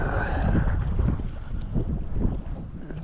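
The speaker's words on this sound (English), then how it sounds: "It's windy enough that it keeps the bugs away for the most part though." Wind gusts across the open shore of Bark Bay on Lake Superior, a steady low rumble of buffeting against the microphone with faint water texture beneath and no talking.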